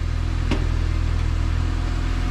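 A Mini Cooper's engine idles steadily after starting, a loud, even, low mechanical hum with a faint click near the start and no talking.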